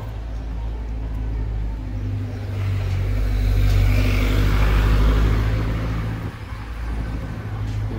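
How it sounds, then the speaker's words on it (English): A bus approaches along a street in Protaras, Cyprus: a low engine rumble and road noise build to a peak near the middle and then fade slightly, with general traffic ambience around it. "there's a bus coming"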